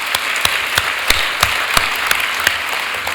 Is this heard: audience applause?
yes